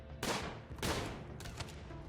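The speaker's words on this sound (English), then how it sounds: "I hear explosions." RimWorld video game combat with gunfire and explosions: three sharp bursts of shots spaced about half a second apart, fairly quiet and with no talking.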